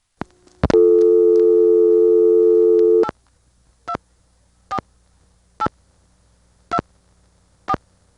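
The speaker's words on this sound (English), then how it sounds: "The register sender of this Pentaconta lets you hear all the details from the trunk." Trunk signals from an ITT Pentaconta crossbar exchange register sender: a steady dual-tone signal holds for about two and a half seconds, then five short evenly spaced tone bursts follow, loud and clean against near silence.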